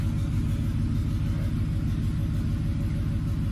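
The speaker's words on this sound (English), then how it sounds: "Let it idle down a little bit." A Ford F-150 truck's 5.4L 3-valve Triton V8, misfiring, idles with a steady, dense low rumble that runs unbroken and loud throughout, with no voices over it.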